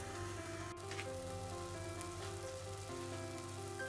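Potatoes and spices fry in a pan with a soft, continuous sizzle, faint and steady, with a small clink near the start and no talking.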